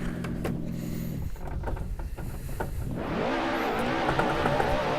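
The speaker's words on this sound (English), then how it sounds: "I wonder if I could do a burnout in here." A BMW M3 E30 revs hard into a burnout in the Assetto Corsa racing game, a steady engine drone that rises into a loud, sustained roar mixed with tyre squeal over the last couple of seconds.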